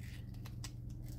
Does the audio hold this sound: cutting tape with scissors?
yes